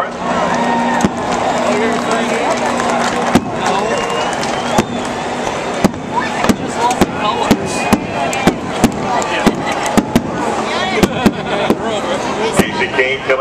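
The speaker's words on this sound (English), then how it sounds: "as the fireworks go off" Fireworks going off at the 2010 Coke Zero 400 NASCAR race on the Fourth of July, with sharp repeated bangs scattered across the span over a steady roaring crowd and race-announcer talk.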